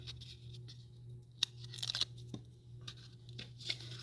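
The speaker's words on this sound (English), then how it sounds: "Peel that off." Backing paper peels away from a sheet of cardstock in short, quiet tearing and crinkling bursts that come close and irregular against a low background hum.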